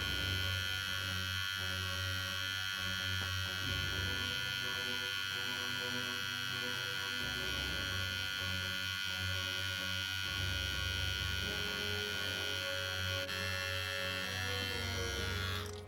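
A Cronier CR-9270 trimmer running on its third speed, a steady electric motor buzz with a strong hum, close and constant throughout, with no voices.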